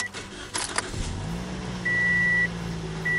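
A car cranking and starting after new spark plugs are fitted, a few clicks and a brief crank before the engine settles into a steady idle, with a chime beeping intermittently close by.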